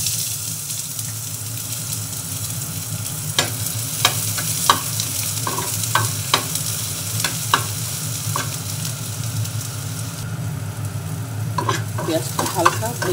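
Chopped onion frying lightly in a pan, a steady sizzle running throughout while a utensil scrapes and taps in repeated sharp stirs, close and fairly loud, with no voices.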